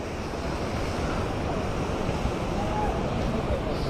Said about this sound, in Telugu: చిన్న వాటర్ ఫాల్